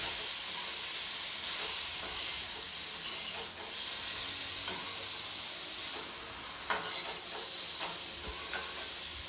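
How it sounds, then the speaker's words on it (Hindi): Spices are stirred into pumpkin sabzi in a pan, a soft, continuous sizzle and hiss with occasional scrapes of the spoon, fairly quiet and steady throughout. "अब मैं इन सभी मसालों को अच्छी तरीके से सब्ज़ी के साथ चला लूँगी।"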